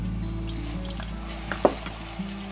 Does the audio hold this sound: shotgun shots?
no